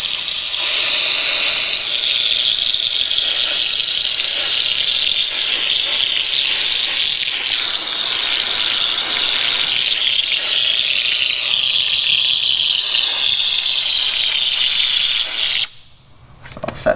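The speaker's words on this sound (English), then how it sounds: "apply a little bit of steam to it and agitate it as I go" A steam cleaner blasts a car wheel with a loud, continuous hiss and spray that holds steady, then cuts off abruptly near the end, leaving brief quiet.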